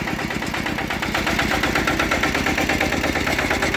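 A Kubota KRT 140 Plus tractor engine runs loud and close, a continuous throbbing diesel rumble with a fast, even pulse and no pauses.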